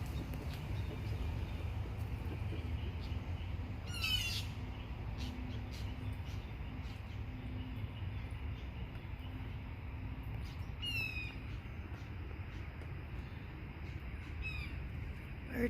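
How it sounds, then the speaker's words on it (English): Birds call overhead in brief bursts, a few short chirping calls standing out over steady outdoor background noise, with long gaps between them. "Birds are up there."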